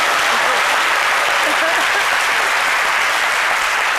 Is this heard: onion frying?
no